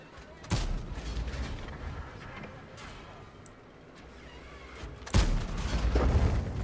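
Tank cannons fire in World of Tanks: two heavy booming shots about five seconds apart, each with a rumbling tail, over engine noise and battle ambience, with faint talk in between.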